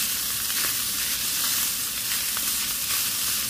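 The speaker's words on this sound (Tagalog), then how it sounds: "isusunod ko na yung aking caramelized na tomato" Caramelized tomato going into meat frying in a pan for tacos, giving a loud, continuous close sizzle that holds steady throughout with no talking.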